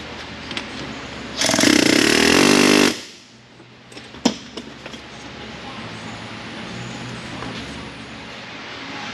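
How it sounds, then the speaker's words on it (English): An impact wrench removes the pinion nut from the differential of a Ford F150 6.2 4x4, giving one loud sustained burst of about a second and a half. Quieter shop noise and a sharp knock follow. "More tappy taps with our impact, and that pinion will be done falling out of the thing."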